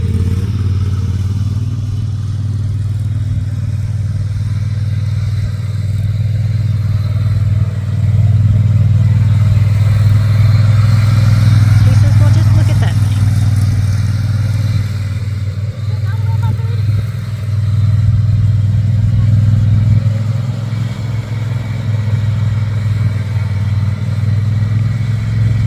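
A 72-inch riding lawn mower's engine rumbles steadily and fairly loudly as it drives around near a horse, with a person talking over the continuous drone.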